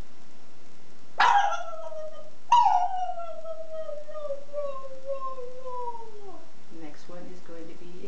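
A human voice imitates a dog with two sharp barks followed by a long, slowly falling howl and a few softer whimpering yelps at the end, close and unaccompanied.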